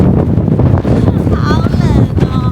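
Strong cold wind buffets the microphone in a Hokkaido park at sunset, a steady loud roar throughout with voices talking over it.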